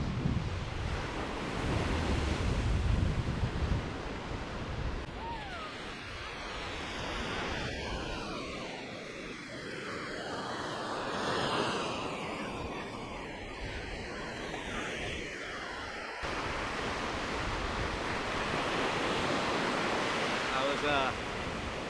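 Ocean surf washes continuously onto a cold beach, a broad steady roar mixed with gusty wind buffeting the microphone.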